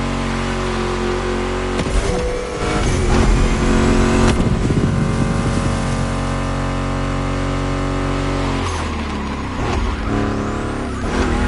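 A Ford Mustang GT muscle car's engine in the racing game The Crew Motorfest drones loudly and continuously, with revs rising and gear shifts breaking the steady roar.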